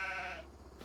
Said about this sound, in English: we've got some black Welsh mountain sheep for the Welsh boy